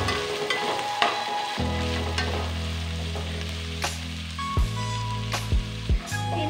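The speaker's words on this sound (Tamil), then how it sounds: "வெங்காயம் எதுவுமே ரொம்ப வதங்கணுங்கிற அவசியம் இல்லை" Onions sauté in a pan for coconut milk pulao, giving a loud, steady sizzle with sharp scrapes and clinks from stirring scattered throughout.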